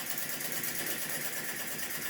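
A small model desktop suction engine, a flame-licker type with spring and cam valve gear and a fiberglass wick, runs steadily with a continuous dense whirring clatter, close and alone.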